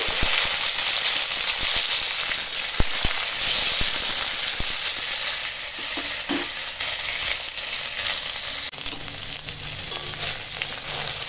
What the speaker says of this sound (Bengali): এখানে দিয়ে দিয়েছি কড়াই তেল। তো চলো ঢ্যাঁড়সটা একটু ভেজে নেব।